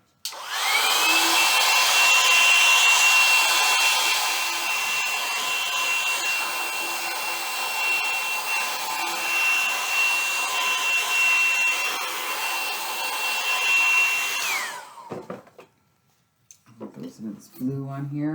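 A hair dryer drying paint on an art page blows as a loud, steady whoosh with a high whine. It runs for about fifteen seconds and then cuts off, after which a person starts talking.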